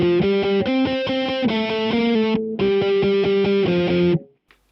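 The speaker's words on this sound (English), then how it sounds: "this is what's known as a mid-boosting overdrive" Electric guitar through a mid-boosting overdrive, strummed chords in a steady rhythm with a short break, thick and slightly crunchy, ending in a ringing fade.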